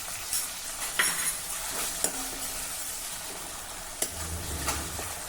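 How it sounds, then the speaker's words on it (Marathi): Tomato sautéing with onion, ginger and garlic in a pan: a steady soft sizzle of frying with a spoon scraping and stirring, a few sharper clinks against the pan, no talking. "आता हा टोमॅटो देखील जरा मऊ होईपर्यंत आपण परतून घेऊ."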